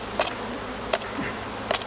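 Honey bees buzzing around an open hive, a steady close droning hum with a few individual bees passing near in brief louder swells.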